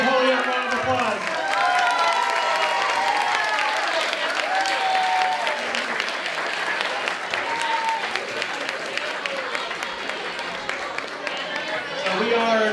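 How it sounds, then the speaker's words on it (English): Holyoke audience gives a round of applause and cheers for Mayor Carmen Yulín Cruz at her key-to-the-city ceremony, dense clapping with a lively voice calling out over it throughout. "Give her a big Holyoke round of applause."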